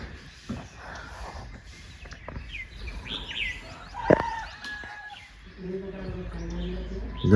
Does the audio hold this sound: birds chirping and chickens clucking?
yes